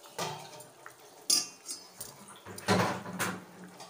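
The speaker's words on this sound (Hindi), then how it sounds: "फिर जो है इसको ढक्कन लगा देंगे," A metal lid clatters onto a cooking pot of fish curry, with clinking metal cookware knocks and scrapes in a kitchen, close and fairly loud.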